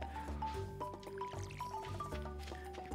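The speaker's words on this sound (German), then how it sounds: "Schön gießen." Plants being watered in the video game Stardew Valley make soft splashing, dripping squishes over a light, tinkling tune, with several quick water splashes repeating in a loose rhythm at low volume.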